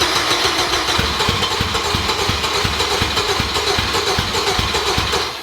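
A Honda K20 engine with a major issue, unused for about a month, chugs close by in a steady, fast rhythm of evenly spaced pulses under a loud broadband whir. The sound runs unbroken and fades slightly at the end.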